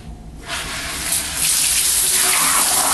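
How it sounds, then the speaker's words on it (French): A Hansgrohe hand shower head is switched on, and its spray swells into a loud, steady hiss of running water after a brief quieter start. "Donc j'espère que vous allez m'entendre avec le jet de l'eau."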